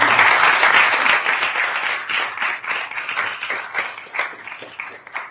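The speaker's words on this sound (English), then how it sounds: "y'all deserve a round of applause" A room at a university board committee meeting breaks into applause, loud and full at first, then thinning into lighter, more separate claps that taper away.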